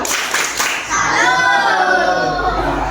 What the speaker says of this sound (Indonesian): Beri tepuk tangan, beri tepuk salut buat Dek Dwi.